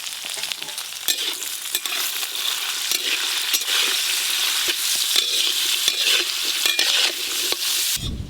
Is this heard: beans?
yes